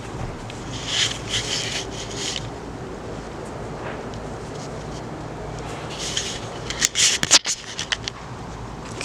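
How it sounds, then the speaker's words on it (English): Callaloo leaves being cut in a backyard garden, with soft rubbing and snipping sounds in short bursts and a cluster of sharper crisp cuts near the end, over steady outdoor background noise. "Okay, so I'm gonna cut some of callaloo."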